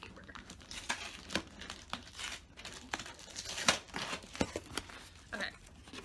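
Construction paper in a classroom supply box is handled up close, giving repeated crinkling, rustling and tearing-like crackles in irregular bursts, with faint background murmur.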